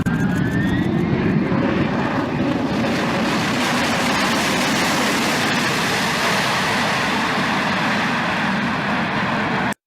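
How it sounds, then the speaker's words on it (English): A loud, steady roar of an airplane engine as it lands on a very short runway, continuous and close, with a broad rushing noise throughout, cutting off abruptly at the end. "This plane was landing on a super short runway."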